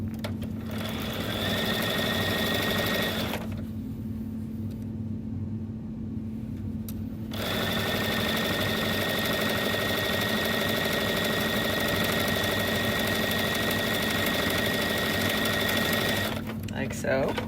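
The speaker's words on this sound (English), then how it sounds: "And I'm going to sew this on." Steady whirring drone of a sewing machine stitching quilt strips, running close and continuous with a brief pause partway through, while a person talks over it.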